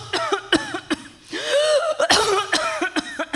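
A person imitates a cough: a string of short, sharp coughs and throat-clearing bursts, fairly close and loud, with a longer rasping hack in the middle.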